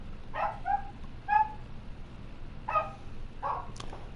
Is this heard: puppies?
yes